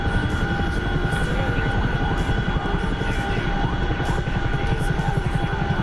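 In a flight simulator game, an aircraft comes in to land near a runway infield, its engine a steady, loud drone with a rhythmic propeller chop throughout.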